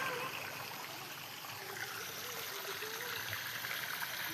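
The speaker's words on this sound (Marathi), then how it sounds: "वर किल्ला आहे आणि खाली इथं मग धबधबा राहतो वरतून खाली पाणी येतं किल्ल्यावरून" During the rainy season, water runs down from a hilltop fort into a small waterfall stream, making a faint, steady trickling and rushing wash at a distance.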